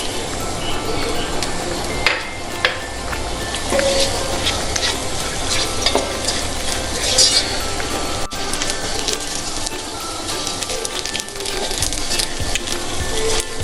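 Beef fry with curry leaves crackles loudly in oil, with a constant close sizzle and frequent scraping and clattering as a spatula stirs the pan.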